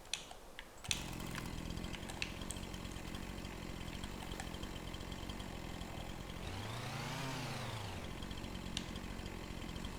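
A Husqvarna chainsaw in a farming simulator video game runs loudly and continuously, starting abruptly, then revving up and back down midway before settling into a steady buzz again.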